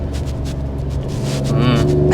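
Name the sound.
Alfa Romeo Stelvio Quadrifoglio engine revving on paddle shift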